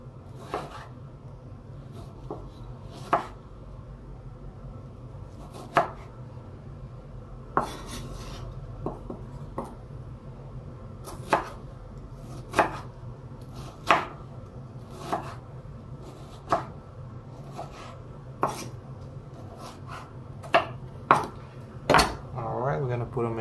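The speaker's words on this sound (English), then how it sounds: "And then we're gonna cut it some more just to make the nice cubes." A knife chops tomato and bread into small cubes for bruschetta, making sharp board knocks at irregular intervals over a low steady hum with no talking.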